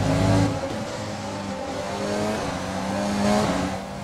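Race cars pulling away at the green flag on the Hanoi street circuit in the F1 2020 game, a steady loud engine drone with several overlapping revving tones and gear shifts, no talk.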